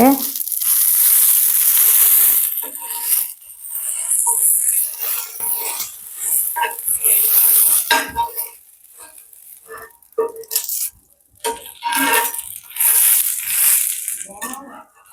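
Masala dosa frying on a hot pan with a steady hiss and crackle, loud at first and then fading in and out, with a person talking intermittently over the cooking.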